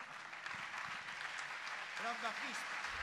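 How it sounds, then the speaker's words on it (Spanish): Applause rises at a pop band's farewell concert, a broad steady wash of clapping with faint voices and a brief sung or called note standing out near the end. "Buen aplauso para esta canción."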